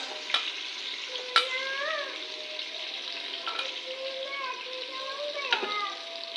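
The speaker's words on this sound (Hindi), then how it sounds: "घी के अंदर मैंने डाल दी हैं प्याज" Chopped onions sizzle and crackle in hot ghee in a pan for aloo gosht, with occasional stirring clinks and scrapes over the steady frying hiss; a faint voice or cat-like sounds are heard in the background.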